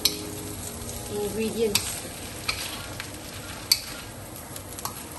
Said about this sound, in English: Okay, the fried tempeh. Okay, so you stir together.